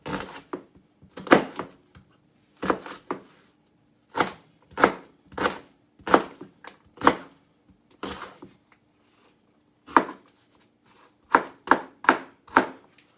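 A knife chops an onion into bite-sized pieces on a cutting board, sounding as a series of sharp, close, fairly loud thuds in irregular bursts with short pauses between them.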